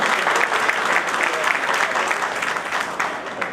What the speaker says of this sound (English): can I have a huge round of applause, ladies and gentlemen?